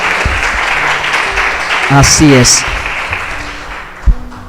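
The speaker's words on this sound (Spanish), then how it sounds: "Denle un fuerte aplauso al Señor por su palabra" A church congregation claps in a sustained round of applause while a preacher's voice speaks over it, followed by a few isolated thumps near the end.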